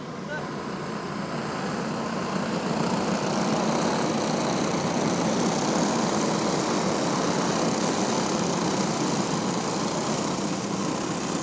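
A field of Pro Senior Champ race cars idles together before a 25-lap race, a loud, steady, unbroken engine drone filling the whole stretch.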